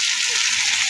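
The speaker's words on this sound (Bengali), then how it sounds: "দিয়ে টমেটো আলু একসঙ্গেই ভাজবো।" Chopped tomatoes and potatoes frying together in a pan, a steady close hiss of sizzling oil that holds evenly through one short moment, with no talk.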